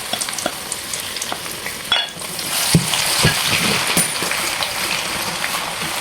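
Peanuts coated in batter deep-fry in oil with a loud, crackling bubbling while a utensil stirs and scrapes through them in irregular knocks.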